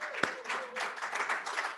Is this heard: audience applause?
yes